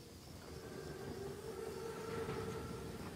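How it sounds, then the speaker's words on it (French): A German armored train, a Panzerzug, in Call of Duty WWII rolls with a faint, steady low rumble and a thin mechanical whine, distant and continuous. "C'est le plus gros train que j'ai jamais vu. Et sacrément blindé. C'est un Panzerzug."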